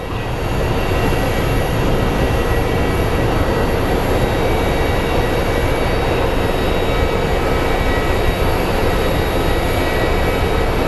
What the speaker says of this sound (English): up next is American Airlines 765 coming from Philadelphia